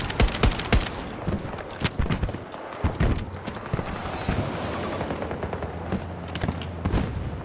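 Rapid bursts of automatic gunfire and single shots crack through a Battlefield 2042 match, dense and loud at first, then scattered over a rumbling battlefield background.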